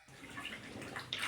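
White clothes soaking in a basin of water with dissolved laundry detergent, water sloshing and splashing close by in a steady, busy wash of small splashes and drips.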